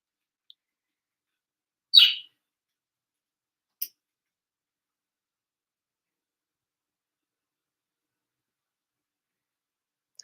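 A pet bird gives one short, bright chirp near the start, followed by a fainter tick a couple of seconds later, in an otherwise silent room.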